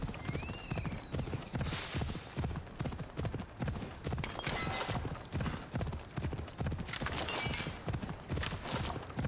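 Steady, rhythmic clip-clop of horse hooves while riding in the video game Assassin's Creed Odyssey, loud and continuous throughout, with a brief whinny-like tone near the start.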